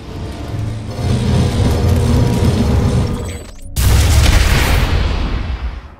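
In the video game PlanetSide 2, a shield generator explodes with a deep booming roar over game noise, cutting off abruptly before a second loud rumbling blast that lingers and fades.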